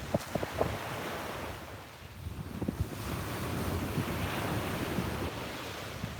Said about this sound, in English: I guess it wasn't too loud with the wind today